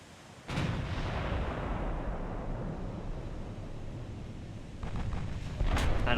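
A 12-inch naval gun fires in the naval warfare game Ultimate Admiral: Dreadnoughts with a heavy boom, then a long rumbling roar and further blasts near the end, with no talk.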